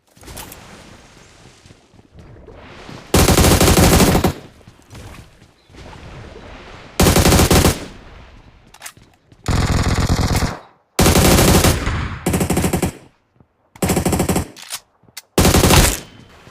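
Automatic gunfire in the mobile battle-royale game BGMI on the Livik map comes in loud bursts separated by short quiet gaps, with several long sprays and a few shorter volleys and no talking.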